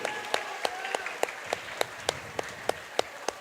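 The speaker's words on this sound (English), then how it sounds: "Let's give our officials for tonight's contest a round of applause." Sparse applause from a high school basketball crowd for the game officials, a dozen or so distinct claps at a steady pace, fairly loud and close with a light gym hubbub underneath.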